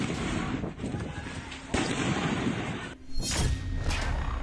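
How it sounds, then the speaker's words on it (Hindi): Rapid bursts of blasts and cracking bangs erupt outside polling booths during an election in Bangladesh, loud and chaotic with dense noise, a brief lull, then renewed sharp reports, with voices mixed in. "पोलिंग बूथ के बाहर धमाके ही धमाके हो रहे हैं।"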